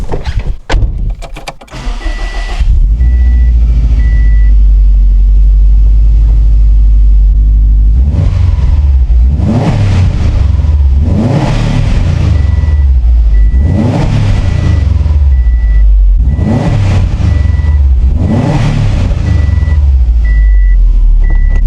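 A Subaru WRX STi with its fender silencer deleted revs repeatedly in loud, near bursts, each rise and fall carrying turbo whistle and flutter, with a steady high tone running through parts of the run.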